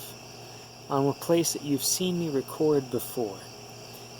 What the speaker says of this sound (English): you might hear the chirping of the crickets behind me and all manner of other night creatures